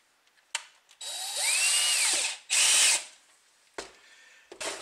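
A power drill spins a small piece of model-ship stock that will be cut off, running in several loud bursts with a whining pitch that rises as the motor spools up, separated by short pauses.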